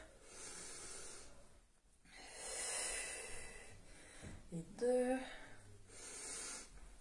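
Heavy breathing during a Pilates squat workout, a noisy exhale or snort around the middle with soft breaths before and after, close and fairly loud against a quiet room.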